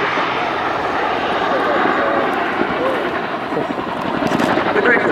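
A loud, continuous rotor-and-engine roar from a Royal Air Force CH-47 Chinook twin-rotor helicopter during an air show display flight fills the air, with a voice talking underneath the noise.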